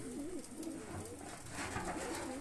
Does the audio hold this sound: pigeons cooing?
yes